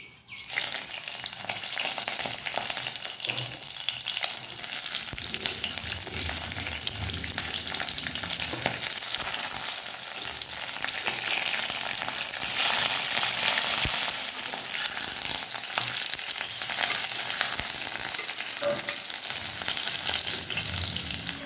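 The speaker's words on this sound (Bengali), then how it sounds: "তো ওই জন্য মাছগুলোকে আগে ভেজে নেব" Fish fry in a pan with a loud, continuous sizzle and crackle that stays close and steady from start to finish, with occasional stirring noises and no one talking.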